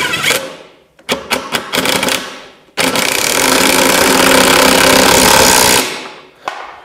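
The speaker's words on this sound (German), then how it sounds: "die ich einfach mit einem Schlagschrauber reinschraube" An impact wrench drives hex screws into wood, opening with short rapid bursts. Then comes one long, loud, continuous hammering run of about three seconds, ending in a brief final rattle.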